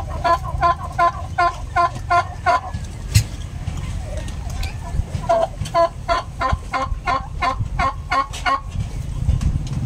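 Turkeys and other fowl call in a pen in the late afternoon after feeding: loud, close, repeated gobbling bursts in rhythmic runs, with clucking and scattered noises between them.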